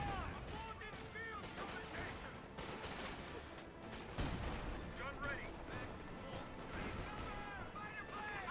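Katyusha rocket artillery firing during a Company of Heroes 2 4v4 battle, a dense, continuous roar of launches and blasts mixed with other gunfire and game effects, with talk over it.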